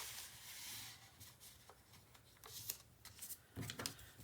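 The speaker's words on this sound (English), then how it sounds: "now I'm going to fold against those score lines." Cardstock being folded along score lines while building an 8.5 x 11 inch album, with soft papery rustles and creases and a few sharper crinkles near the end, close and fairly quiet, no talking.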